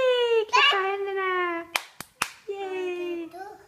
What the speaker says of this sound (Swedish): Klappa händerna!